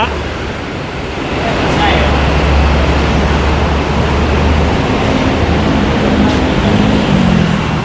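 Steady, dense roar of traffic rushing past on a multi-level elevated expressway in Thailand, a continuous loud wash of tire and engine noise with a faint voice underneath.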